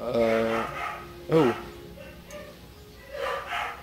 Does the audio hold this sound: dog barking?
yes